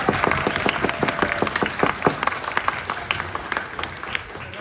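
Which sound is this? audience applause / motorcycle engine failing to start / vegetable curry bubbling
audience applause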